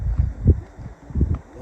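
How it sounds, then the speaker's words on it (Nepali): Sulphurous hot spring water bubbling and boiling up in a volcanic area of New Zealand, with irregular low, gurgling bursts close by and no voices. "पानी भुलुक भुलुक उम्रिरहेछ"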